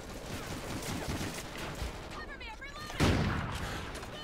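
Wallbang gunfire in Call of Duty: Ghosts, with repeated shots through walls in a busy game mix, a louder burst near the end, and a faint voice present.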